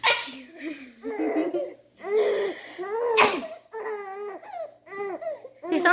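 A young girl fakes several sneezes amid bursts of giggling and laughter from other children, with adults talking between the takes in a lively, close-up home setting.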